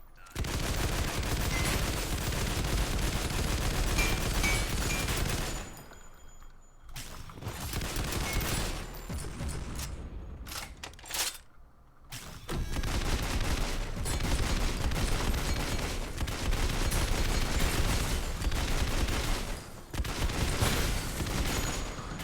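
Sustained automatic gunfire from a weapon in the shooter Synthetik, long dense bursts of loud, close shots broken by a few short pauses and scattered single shots.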